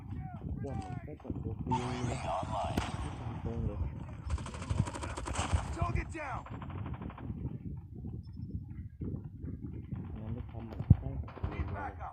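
Rapid gunfire in Call of Duty Mobile crackles in bursts over someone talking, mixed with game effects and fading between volleys.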